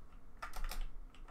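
A quick, close burst of keys being hammered on a computer keyboard, clattering rapidly for under a second and then trailing off, with no talking.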